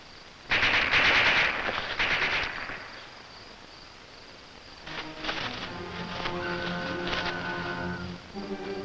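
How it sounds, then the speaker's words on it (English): A skipper's .22 fired as a warning, a rapid burst of sharp gunshots in the first seconds, fairly distant, then quieter background with faint tonal ringing and rustling. "Skipper fired to warn us."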